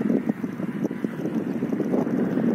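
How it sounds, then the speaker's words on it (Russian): Cold wind blowing at a seaside spot on the Arabat Spit, steady moderate gusting rumble buffeting the microphone with faint irregular knocks, no talking. "Здесь ветер, холодно."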